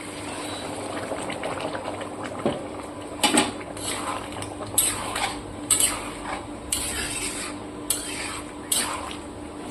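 Potato and prawn curry with pointed gourd simmering in a covered pan, a quiet bubbling hiss broken by several short, sharp spurts and pops in quick succession.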